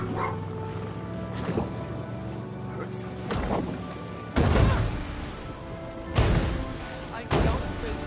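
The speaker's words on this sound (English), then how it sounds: "No more barking." A dog barks in the Maneater video game, a few loud, separate barks spaced across the stretch amid game sounds, with a person talking over them.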